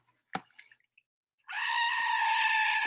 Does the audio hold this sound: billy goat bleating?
yes